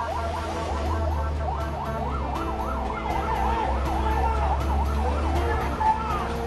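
A fire engine siren wails in fast rising and falling sweeps over a steady low engine rumble, loud and close, with no voices, as it arrives at a fire.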